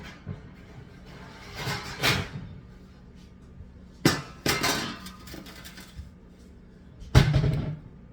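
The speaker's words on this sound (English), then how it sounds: "Okay, get my broiler pan." A metal broiler pan is taken out and handled, giving a few scattered clanks and scrapes close by, the last one the sharpest knock, with quiet gaps between.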